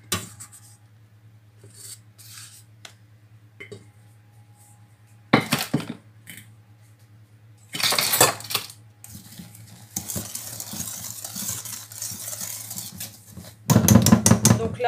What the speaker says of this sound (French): Donc là, c'est des blancs d'œufs montés, donc on mélange délicatement.